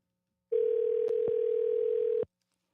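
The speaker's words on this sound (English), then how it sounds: "Let's see if I can give Joe a call back." Phone dial tone while placing a call back, a single steady electronic tone lasting under two seconds, clean and close with faint clicks, then cutting off into silence.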